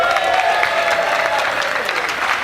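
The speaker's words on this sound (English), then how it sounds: "can we have a congratulatory round of applause?" Audience applause for the musicians at the 2019 Woodford Morris dance jig competition, a dense, steady round of clapping from a crowd, with faint voices mixed in.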